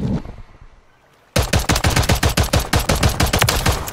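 Rapid pistol gunfire in the video game Call of Duty: Modern Warfare 3 breaks out after a brief lull, a loud, close, fast run of sharp shots that continues to the end with no talk over it.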